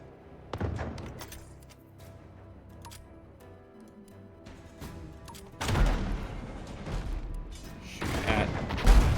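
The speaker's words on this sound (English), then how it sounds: "Man, these mortar ships are brutal." Heavy mortar barrages from enemy ships in a naval video game, loud booming bursts and crackling blasts, strongest in a dense cluster in the second half, with a single sharp hit near the start.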